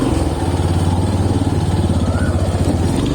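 A motorcycle engine runs steadily and loudly up close while riding to college, a continuous low throbbing drone with slight rhythmic pulsing and no talk.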